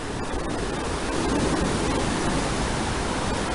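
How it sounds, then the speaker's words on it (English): A raging mountain river torrent roars as a steady, dense broadband rush, loud and unbroken throughout with no voices. "looking out on a raging torrent of a river, listening to that sound"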